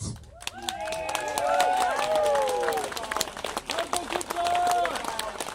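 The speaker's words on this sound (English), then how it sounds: "Applause." Audience applause at a live street event in Crowborough, steady clapping from a crowd mixed with cheering voices and people talking, close and sustained throughout.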